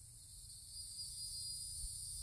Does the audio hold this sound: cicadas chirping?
yes